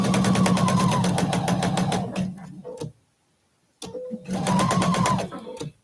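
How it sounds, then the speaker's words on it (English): Sewing machine stitching along the bias edge of a quilt triangle, with a fast rhythmic run that stops, a near-silent pause and a few clicks, then a second close, steady burst. "Now, I'm starting to sew on that bias edge of the triangle."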